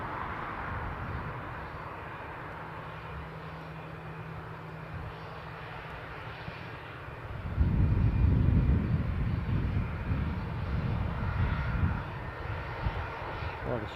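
A British Airways jet departing from Newcastle airport is heard from a distance: a low engine rumble builds abruptly into a loud roar halfway through, then slowly eases.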